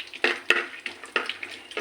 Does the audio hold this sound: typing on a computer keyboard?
no